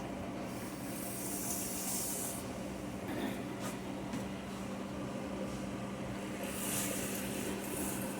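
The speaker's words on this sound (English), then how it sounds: "Got a nice sizzling sound going on." Steady sizzling and hissing of onions in a hot pan, continuous and fairly close, with occasional louder crackling bursts.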